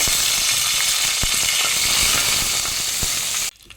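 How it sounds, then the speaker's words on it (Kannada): Curry leaves hitting hot frying oil with fried chana dal and urad dal, a loud, dense, continuous sizzle and crackle close by, with a few sharp pops, cutting off abruptly near the end. "ಕರಿಬೇವು ಹಾಕ್ತಿದ್ದೇನೆ ಬೇವು ಸೊಪ್ಪು"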